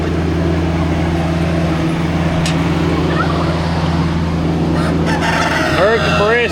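Backyard homestead flock of American breed chickens with a rooster, crowing calls rising over steady clucking and a constant low mechanical hum, with a couple of short distinct calls near the end.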